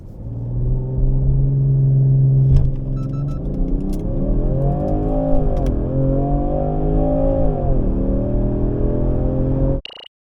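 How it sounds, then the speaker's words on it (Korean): A 2023 Land Rover Range Rover Sport accelerates hard from a standstill, its engine note loud and steady as it climbs through the rev range with a brief gear-change dip, then cuts off abruptly near the end. "자, 이번에는 발진 가속 성능을 보겠습니다."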